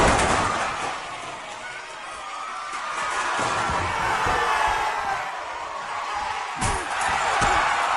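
Roaring wrestling crowd cheering steadily throughout at a match, with a sharp crash near the end as a fluorescent light tube is smashed, followed by a second hit.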